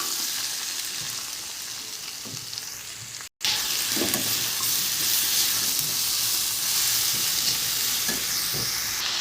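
Bottle gourd with ground spices and green chilli stir-fries in a pan, a steady loud sizzle with scraping stirs throughout, broken by one brief dropout before the frying hiss resumes.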